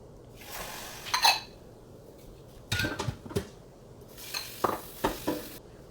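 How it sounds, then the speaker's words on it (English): Okra soup being dished from a pot for banku, with scraping and clinking of a ladle against cookware in three short bursts, close and moderately loud with quiet pauses between. "Here am I dishing the okra."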